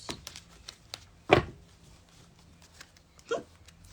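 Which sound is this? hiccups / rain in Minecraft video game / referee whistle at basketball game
hiccups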